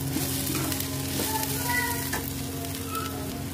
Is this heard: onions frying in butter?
yes